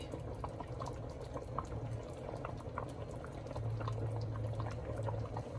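Rice for chicken pulao boils steadily in a pot, giving a continuous close bubbling and gurgling with small pops throughout.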